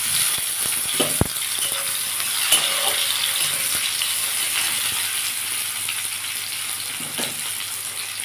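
Garlic, onion and tomato fry in hot oil in a pan, a loud, steady close sizzle throughout, with a few clinks and scrapes of stirring mixed in.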